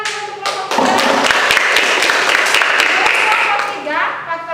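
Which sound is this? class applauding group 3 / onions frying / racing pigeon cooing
class applauding group 3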